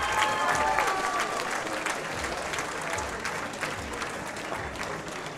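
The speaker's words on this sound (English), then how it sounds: "Let's give a round of applause to these fighters," Crowd at an FCC fight event applauding the fighters, with sustained clapping and cheering filling the arena at a moderate distance, fading slightly toward the end with no clear voices over it.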